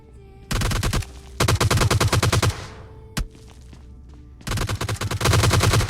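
Rapid automatic gunfire in PUBG Lite: two loud, dense bursts of rattling shots, a pause with a single sharp crack, then a third sustained burst near the end, with no talk.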